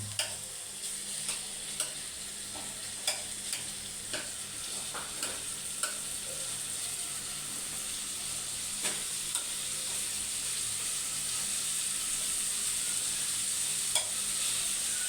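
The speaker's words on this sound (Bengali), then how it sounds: "মাছগুলো তেলে দিয়ে দিবেন দিয়ে খুঁটি দিয়ে ভালো করে ভেঙে দেবেন মাছগুলো" Fish frying in oil with a constant soft sizzle, broken by repeated scraping and tapping of a spatula as the pieces are broken up.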